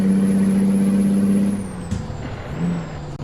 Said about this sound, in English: That Jake brake sound is perfect.